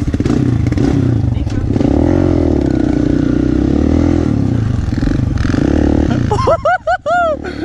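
A motorcycle drifts in snow with a loud, close engine revving and snarling continuously as the rider slides. Near the end come sharp squealing or chirping bursts, with people talking nearby.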